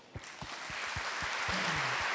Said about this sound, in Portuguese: Vamos aplaudir os bons ensinamentos.